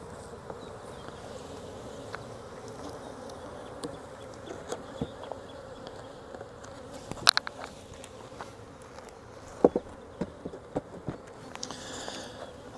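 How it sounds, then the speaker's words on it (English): Honey bees buzz steadily around honey-covered frames at a hive in a new walkaway split, a dense insect drone with scattered close fly-by buzzes and a few sharper ticks throughout. "So the bees are enjoying it."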